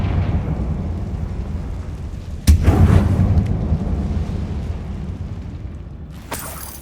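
A Confringo blasting spell explodes inside a mine tomb in the game Hogwarts Legacy, a sudden sharp crack followed by a deep rumbling boom that slowly decays over steady low ambient drone.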